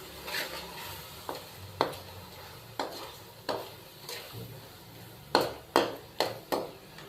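Crushed and ground red chili stirred into sizzling oil in a pan for aloo pulao, with sharp spoon scrapes and knocks against the pot recurring every half second or so over a low frying hiss.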